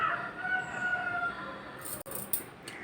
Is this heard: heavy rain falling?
no